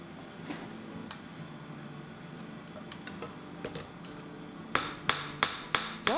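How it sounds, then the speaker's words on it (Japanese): A small hammer taps on silver being shaped into a guitar pick, light scattered clinks at first, then five sharp, evenly spaced metallic strikes close up at the end. "金槌の打撃方向が交差するように作業します。"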